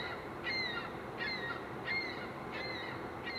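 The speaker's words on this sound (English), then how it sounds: "There's a really loud bird. Seagull." A seagull calls loudly and close by, five harsh squawks spaced about every three-quarters of a second over a steady outdoor background.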